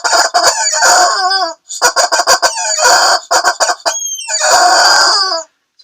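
A rubber chicken toy squawks in loud, close, drawn-out honks, several in a row separated by short gaps, with no voices.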